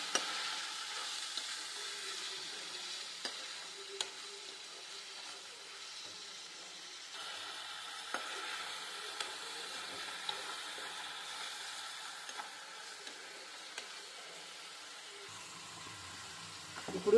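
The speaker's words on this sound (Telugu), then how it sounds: "ఇప్పుడు మనము టమాటా ముక్కలు వేసుకుందాము. వేసుకొని బాగా కలబెట్టుకోవాలి." Tomato pieces fry in a pan for a mutton masala curry and are stirred, giving a steady, even sizzling hiss with occasional light clicks from the stirring, and no voices.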